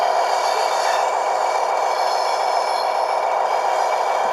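A Lionel HO gas turbine model locomotive runs at speed step 1 on a DCC decoder, its motors giving a steady, loud, high-pitched whine and hum that holds evenly throughout, close by and with no talk.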